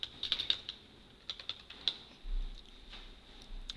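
Someone types a table name on a computer keyboard while working in a database program. Quiet, close keystrokes come in short, uneven bursts with brief pauses between them.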